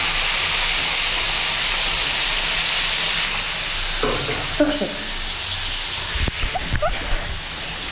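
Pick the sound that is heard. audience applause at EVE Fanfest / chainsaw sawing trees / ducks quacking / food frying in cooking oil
food frying in cooking oil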